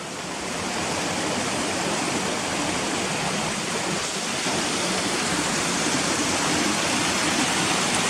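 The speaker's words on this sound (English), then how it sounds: "where it's coming underneath the road, back there, which is a little waterfall, look" Water pours in a constant rushing hiss from a small waterfall where a stream flows under a road at Ashgill, close by, steady and unbroken.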